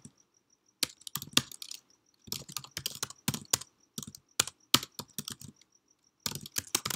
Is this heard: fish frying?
no